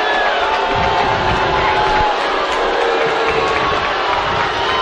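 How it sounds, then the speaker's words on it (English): A basketball arena crowd at a 2019 MEAC game between North Carolina Central Eagles and Howard Bison roars in sustained, loud disapproval after a referee's whistle, a dense wall of shouting and jeering with no break. "the crowd didn't like that call"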